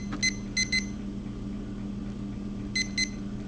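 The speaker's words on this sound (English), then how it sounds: "Now you set the timer" A kitchen timer beeps in short, sharp electronic bursts: a quick pair, a second pair, then two more later, each crisp and close over a low steady appliance hum, with no voices.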